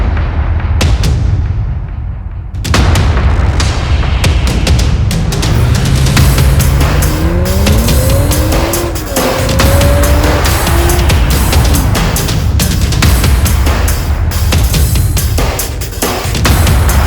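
A 2023 BMW X7 M60i accelerates hard with a loud, steady engine roar, while tires squeal in rising and falling tones near the middle and sharp bangs and rattles punctuate throughout.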